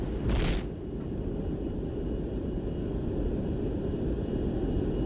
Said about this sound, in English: Enemy helicopters are coming in.